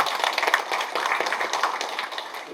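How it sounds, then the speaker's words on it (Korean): Attendees at a livestock cooperative's annual general meeting clap for the cooperative chairman in a steady burst of applause, fairly close and even throughout. "그럼 박수 한번 보내십시오"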